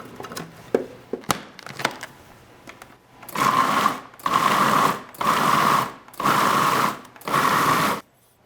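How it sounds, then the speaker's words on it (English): A food processor chops fresh vegetables for gazpacho in five loud, evenly spaced pulses of whirring grinding, each about a second long, after a few quiet knocks and clatters. "we're gonna add all of these vegetables that I just cut, all these fresh vegetables, to my food processor"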